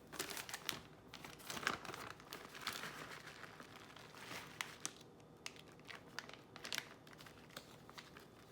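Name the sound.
crinkling cheese bag being emptied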